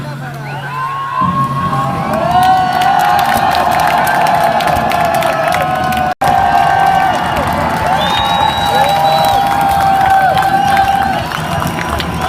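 A large stadium crowd at the Attari-Wagah border ceremony cheers, whoops and chants continuously, a loud, dense roar of many voices with shouts rising above it, sustained throughout with one brief drop-out midway.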